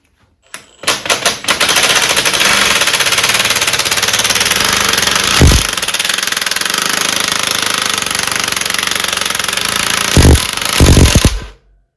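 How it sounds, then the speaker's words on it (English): Loud, continuous mechanical rattling and hammering for about ten seconds as a puller works a steering wheel off a Bolens Ride-a-matic, with a few heavy clunks near the end as it is forced loose. "we've put a puller on here now"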